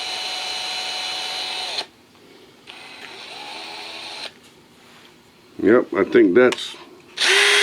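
A drill bit cuts slowly into the die-cast metal body of a Hot Wheels toy car, a steady whirring grind in bursts separated by pauses, with someone briefly speaking near the end.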